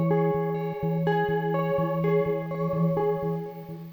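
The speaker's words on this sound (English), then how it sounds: "Distortion that reacts in real time. Not a static effect, but one that listens to your playing." A distortion effect plugin reacts in real time to a played instrument, giving repeated overdriven, harmonically rich notes with a chorus-like shimmer in a steady, rhythmic pattern, loud and alone.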